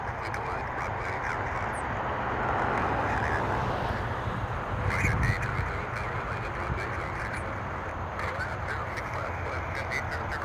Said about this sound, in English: This is WestJet going to Halifax, 737 MAX 8.